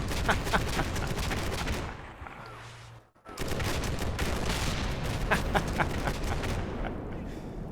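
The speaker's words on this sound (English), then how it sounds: "Close range automatic grenade launcher." Automatic grenade launcher fire in the Combat Mission: Black Sea war game, a dense continuous stream of rapid thudding shots and blasts that breaks off briefly in the middle, then resumes just as loud.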